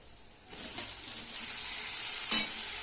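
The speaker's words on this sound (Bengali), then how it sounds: "কচি লতি দিয়ে মশলাটাকে ভালো করে কষাতে হবে" Boiled taro stolons stirred into a dried fish masala in a hot pan, a bright steady hiss of frying that starts abruptly and holds, with one or two soft spatula scrapes, close and alone.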